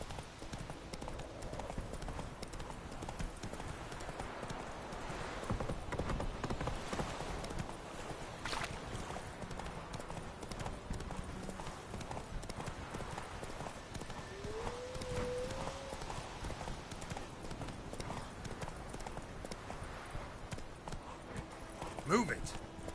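Hooves clip-clop steadily as a horse moves along in a PS4 video game, a continuous rhythmic trotting beat with occasional snorts, heard faintly under in-game talk.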